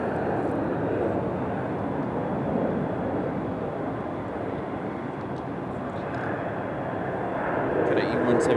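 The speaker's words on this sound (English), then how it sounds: "I hear another A220. Sounds like one of the Breeze A220s might be getting moving." A Breeze Airways Airbus A220 jet airliner moves at Raleigh-Durham International Airport, giving a steady, fairly distant engine roar and rumble that holds throughout and swells slightly toward the end.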